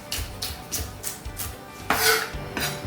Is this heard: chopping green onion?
yes